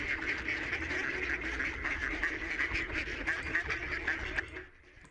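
Ducks quack repeatedly in a recording played back through a media player, a steady busy chorus of calls that fades out near the end.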